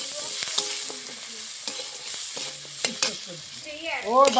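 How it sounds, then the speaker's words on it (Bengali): Chopped onion, with garlic and cumin seeds, sizzles steadily in a pan with a bright, hissing crackle. Occasional stirring clatters and a quiet voice sit beneath it. "পেঁয়াজটা এখন ভালো করে ভেজে নেবো।"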